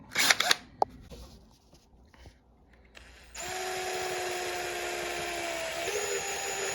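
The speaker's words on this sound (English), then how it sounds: "we're going to have to drill it." A power drill bores out a hole in an acoustic-electric guitar, starting after a few handling clicks and knocks, then a loud steady high whine that holds for several seconds and shifts slightly in pitch near the end.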